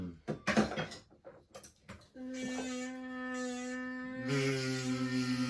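A voice hums a steady, sustained buzz imitating a fly, holding one droning pitch for a few seconds after some brief knocks and clatter.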